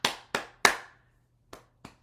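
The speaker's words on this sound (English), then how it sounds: "let's clap our hands to stimulate the heart" Hands clap sharply during a guided morning stress-release exercise routine: three crisp claps in quick succession, a pause, then two softer claps, close and dry in a quiet room.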